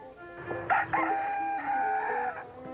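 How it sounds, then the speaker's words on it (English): A barnyard rooster crows loudly and close by at a historical village in Ohio, one long drawn-out call with a rising start and a sustained, wavering finish. "The ever-alert barnyard rooster"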